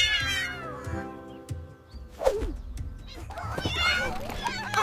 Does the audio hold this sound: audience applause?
no